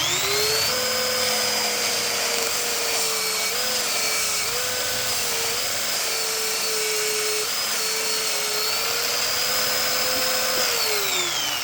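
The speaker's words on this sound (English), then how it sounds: "Now let's get it sanded down." Bench sander grinding a red oak revolver grip, a loud continuous whine with a steady motor tone that shifts slightly in pitch as the wood is pressed against it, running unbroken throughout.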